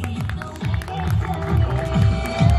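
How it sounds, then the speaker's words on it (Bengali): An audience claps steadily at a prize-giving ceremony, a sustained patter of many hands with some crowd noise and a rhythmic low thumping under it. "সবাই একটু জোরে হাততালি।"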